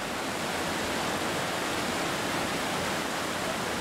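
The Namblan waterfall near Batnasir in Sheeri, Baramulla, Kashmir, sounds as a loud, dense, unbroken roar of falling water close by, with no voices over it.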